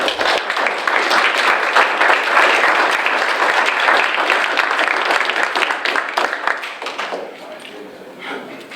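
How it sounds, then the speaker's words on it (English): Sustained applause from a large crowd at a city council meeting, loud and dense, tapering off near the end. "Let's give them a big round of applause."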